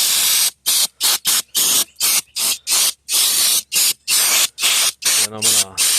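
Aerosol brake cleaner blasting a 1990 GMC Jimmy fuel tank in a rapid string of loud, close hissing bursts separated by short gaps, with a brief voice-like sound near the end.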